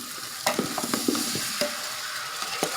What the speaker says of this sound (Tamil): இஞ்சி பூண்டு பேஸ்ட் போட்டு நல்லா கலரிடுங்க.